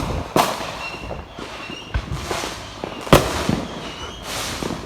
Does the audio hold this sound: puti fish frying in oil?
no